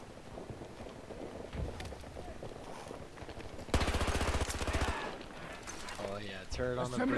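Heavy automatic turret fire in Battlefield 2042 on the Noshar Canals map, a dense rapid burst of shots in the middle of the clip over a constant background of game noise and chatter.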